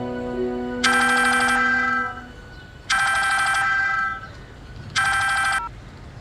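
A phone rings for an incoming call in a home, three loud electronic ring bursts spaced about two seconds apart, close and clear, with a low steady hum between them and no talking.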